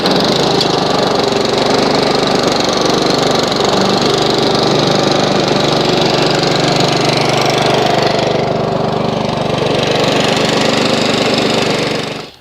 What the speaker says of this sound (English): Run the engine up, get it up to temperature.